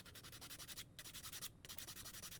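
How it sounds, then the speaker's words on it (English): Steady, rhythmic scraping strokes of a sanding stick rubbing against a small plastic Gunpla model peg, close up and continuous with two brief pauses. "you can sand it down"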